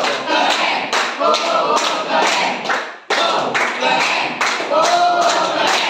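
A classroom group claps out a patterned 'wow' cheer, bursts of synchronized claps in a repeating rhythm with a brief pause midway, close and fairly loud.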